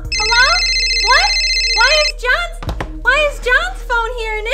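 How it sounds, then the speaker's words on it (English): A phone ringing with repeated electronic ringtone bursts, loud and close, with a thump and a voice speaking over it in the second half. "Why is John's phone here and it's ringing?"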